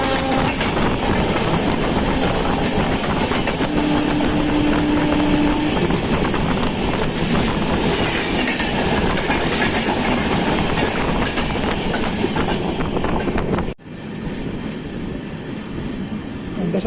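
Amrit Bharat Express train on its inaugural Malda Town to Bangalore run, a loud continuous roar of wheels on rails with clickety-clack from inside the coach, briefly dipping near the end before rumbling on.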